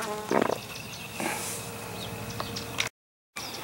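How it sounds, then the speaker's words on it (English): Bees and other insects buzz among a large lavender plant in an Arizona garden, a soft continuous drone close by with a louder burst early on, heard alone with no talking. "a large lavender with bees"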